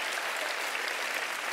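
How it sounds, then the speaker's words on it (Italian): A studio audience at a comedy show bursts into applause, a dense, uniform roar of many hands clapping that holds steady and close throughout. "Applauso."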